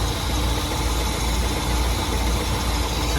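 A 1966 Ford Mustang convertible's 289 V8 with a four-barrel carburetor idles steadily and close by, a constant low rumble with an even, unbroken churn and no voices.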